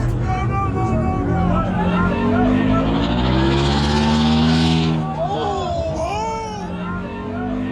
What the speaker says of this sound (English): I think he's trying to do a burnout.